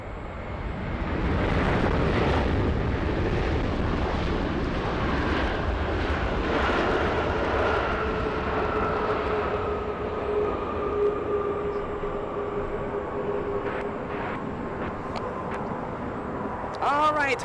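Boeing 787 Dreamliner airliner touching down at Los Angeles airport after a long flight, a steady loud engine roar with a falling whine that slowly fades, heard from nearby.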